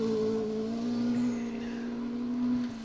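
A Ford Escort Mark II rally car on a forest stage holds a loud, sustained engine note with a steady harmonic drone and slight rises in pitch, close and continuous before tailing off at the end.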